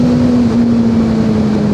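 Suzuki GSX 600 motorcycle engine holds a loud, steady low drone with the throttle open, a constant growl with slight wind noise and no speech.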